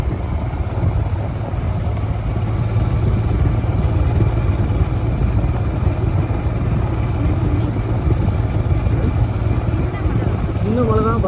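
A Royal Enfield Scram 411 motorcycle climbs a hill road with a steady low engine drone, close and loud throughout, with wind rumble over it.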